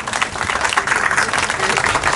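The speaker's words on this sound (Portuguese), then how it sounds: "Um salve de palmas." A crowd at a store opening ceremony in Ribeirópolis gives a round of applause, dense, close and lively clapping that continues steadily throughout.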